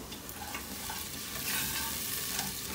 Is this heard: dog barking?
no